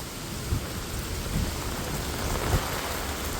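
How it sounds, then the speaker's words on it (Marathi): A pilgrimage-route thunderstorm brings heavy, steady rain with wind in a dense, continuous roar. Faint low thunder rumbles sit underneath, and no voices are heard. "ढग पण वाजायला लागले बा आज"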